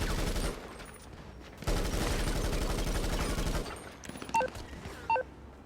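Enemy henchmen fire machine guns in a GTA V Online contract finale, a rapid, sustained rattle of automatic fire lasting a couple of seconds, followed by quieter scattered shots and sharp electronic game beeps.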